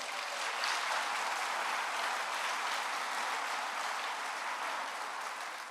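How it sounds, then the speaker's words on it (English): Sustained applause from a graduation celebration audience, a dense, steady wash of clapping that holds at an even level for several seconds with no speech over it. "So huge round of applause to those two classes again."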